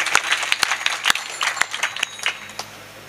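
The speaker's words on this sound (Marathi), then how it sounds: "एकदा टाळी वाजवा मंडळी करूया." Audience applause breaks out at a village kirtan gathering, a scatter of sharp, uneven handclaps continuing for a few seconds with no voices over it.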